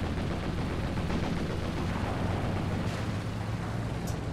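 Dense, continuous rumbling gunfire from the video game War Thunder, with a noisy, game-like quality, a constant roar of shots without pauses or voices.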